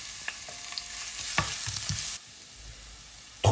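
Mustard and fennel seeds with garlic and ginger fry in hot oil in a saucepan, a soft crackling sizzle with a few sharp pops and a spoon tap, then a quieter hiss and a sudden louder burst at the end.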